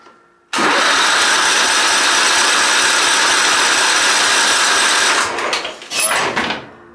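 A stuck lawn mower engine is cranked over in deep snow, roaring loudly and steadily for about five seconds before sputtering, dying, and briefly catching again in a short final burst.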